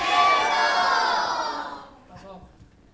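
Crowd of children shouting a single word together in unison at a concert tribute, a loud, bright burst that fades out over about two seconds, followed by quiet room noise.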